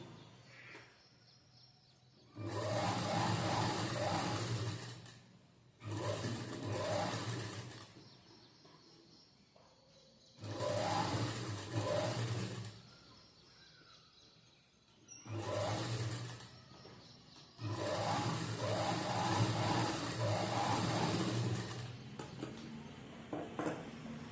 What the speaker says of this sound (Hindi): अभी हम इस पे दाब सिलाई दे देते हैं।